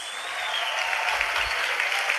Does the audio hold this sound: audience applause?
yes